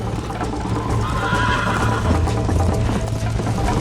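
A horse gallops with rapid, continuous hoofbeats and lets out a neigh in the Red Dead Redemption game on PS3, loud and close against dense game sound throughout.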